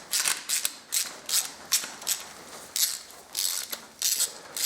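Hand ratchet backing out tight 10mm bolts during a single-turbo Toyota Supra build, rapid clicking strokes repeating in quick bursts, close and clear, no voices.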